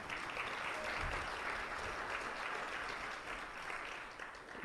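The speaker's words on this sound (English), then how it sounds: "We can give him a big round of applause." Sustained applause from an audience at a panel discussion on keeping students in school, steady and dense clapping filling the whole stretch without a break.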